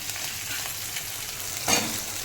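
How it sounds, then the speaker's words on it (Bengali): Cubed potatoes frying with whole spices and ginger in a pan for a vegetable curry, a steady close sizzle with a brief louder burst of spitting near the end. "এবার আমি দিয়ে দেবো কিউব করে কাটা আলু,"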